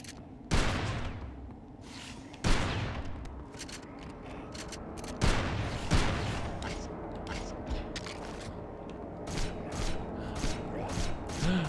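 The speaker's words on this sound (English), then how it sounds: "Let's give him some shotgun." A shotgun fires in the video game Hunter: The Reckoning, several sharp separate blasts spaced a second or two apart, mixed with mechanical clatter and other game noise.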